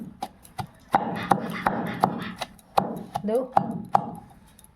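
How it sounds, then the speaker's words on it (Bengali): Knife chopping coriander leaves with ground spices on a board: a steady run of sharp, close taps, about a dozen over a few seconds, with a voice speaking briefly between them. "আবার ভালো করে কুটে নেব।"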